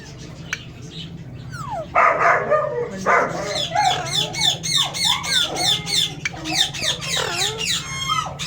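Small dog yipping and barking indoors in a home, a quick run of high, repeated barks that grows busier toward the end, close by, over a steady low heater hum, with people talking.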